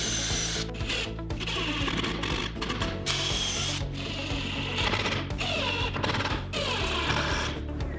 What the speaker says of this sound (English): put my holes and my screws in the dead center of the workpiece